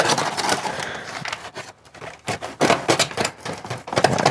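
Hot pepper being cut in a virtual reality cooking game, heard as rapid clicky, crackly knife taps in irregular bursts with brief pauses between them, fairly close and with no talking.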